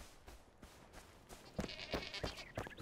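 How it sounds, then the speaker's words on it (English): Sheep in the video game Enshrouded bleat several times in the second half, a few short, fairly close calls over a faint ambient game background. "We got a sheep over here."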